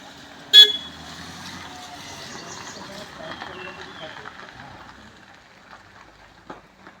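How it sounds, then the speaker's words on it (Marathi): A car pulls up in a rural village and gives a single sharp honk early on, followed by a soft engine rumble and scattered background sounds, with people talking nearby. "आपले सचिन दादांची गाडी येते बघा."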